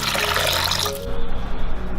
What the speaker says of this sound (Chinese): 加入大概3碗汤的水量，再来2片姜，炖锅里加入适量清水，